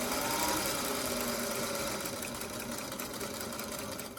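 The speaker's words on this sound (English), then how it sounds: "And then I just sew on the lines." A domestic sewing machine stitching along marked lines on a quilt block, whirring continuously and fairly quietly up close for several seconds, with no talking.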